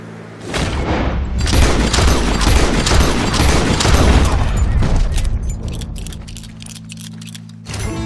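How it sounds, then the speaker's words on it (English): Gunshots in Red Dead Redemption 2, a loud, rapid series of booming shots with sharp, repeated cracks that gradually thin out and fade, with no voices heard. "He shot the thing!"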